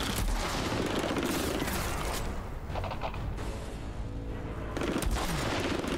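Sustained enemy gunfire in the Outriders video game, a dense, loud barrage of overlapping shots and bursts running the whole time with no break, swelling again near the end.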